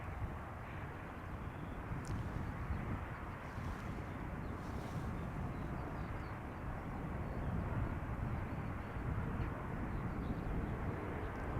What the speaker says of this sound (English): And we have another Embraer coming this way